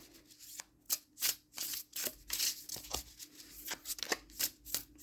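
Tarot cards are shuffled by hand in a string of quick soft riffling and slapping flutters, close and fairly quiet, with no talk.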